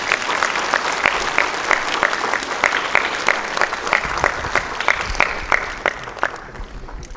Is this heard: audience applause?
yes